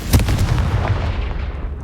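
A Confringo fire spell blasts in the video game Hogwarts Legacy, a loud booming burst that opens the clip and trails into a rumbling, crackling decay with no talk.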